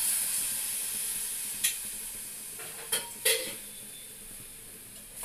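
Grated date-palm jaggery and a spoonful of milk stirred together in a pan as a sweet filling, giving a steady soft sizzle with a few brief scraping clatters of the spoon against the pan.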